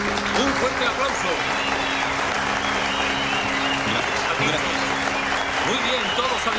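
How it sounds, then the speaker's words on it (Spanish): Applause and cheers from a festival crowd, steady and dense for the whole stretch, with a low sustained musical tone underneath. "Un fuerte aplauso."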